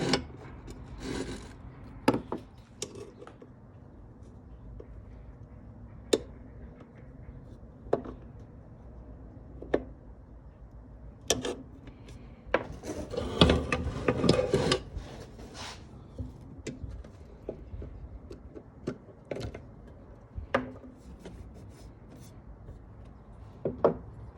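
Old gasket material being scraped off the valve cover of a 1995 Honda Civic, with irregular rasping and scratching strokes up close, scattered sharp clicks of the tool, and a busier burst of scraping midway.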